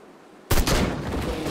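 After a near-silent start, a single loud gunshot cracks from the Sang Froid lumberjack game, its sharp blast trailing into a ringing decay.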